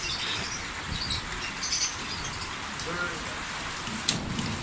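Steady rain falling outdoors during a windy storm near pigeons, a dense continuous hiss with scattered drops and a faint rumble, with a brief sharp knock near the end.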